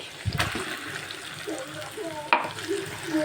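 Chopped ginger and cumin seeds sizzle and crackle in hot oil in a pan, loud and close, with scraping stirs and a voice murmuring over the frying.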